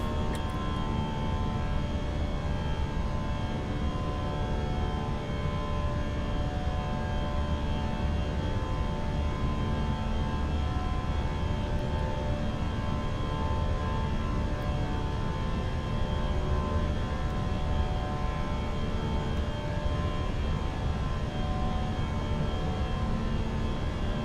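Steady, continuous roar of Airbus A319 engines during climb in a British Airways flight simulation, a broad, unchanging drone with no voices.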